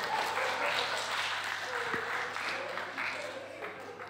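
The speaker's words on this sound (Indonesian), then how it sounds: "Oke, kasih aplaus dulu." Audience applause at a combined youth fellowship discussion session, a steady wash of clapping from a group that holds for several seconds and slowly fades, with some voices mixed in.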